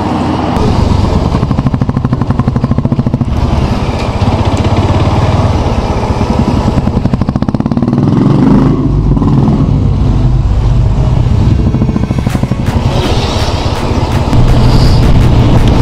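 A group of motorcycles rides along a lake road in cold weather, a loud continuous engine drone with shifting revs and passing machines, close and steady throughout with no talk.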